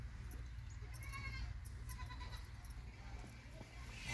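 A goat for sale bleats a few times at a livestock market, fairly faint amid a low rumbling background and scattered distant voices.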